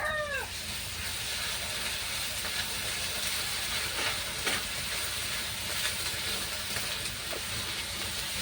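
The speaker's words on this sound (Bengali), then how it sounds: "আদা রসুন লঙ্কা বাটা এগুলো আমি তেলের মধ্যে দিয়ে দিলাম" Ginger, garlic and chili paste frying in hot oil, a steady broadband hiss and sizzle that stays fairly loud and even throughout, with no talking.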